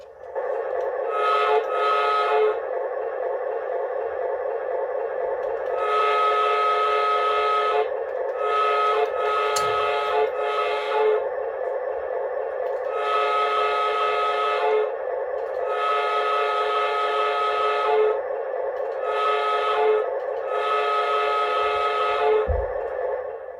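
The horn of a Menards F3 O gauge toy model train toots in a rapid series of short, bright blasts that run almost together, close and loud, with no talking.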